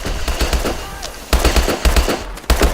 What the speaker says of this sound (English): that would be me shooting my own teammates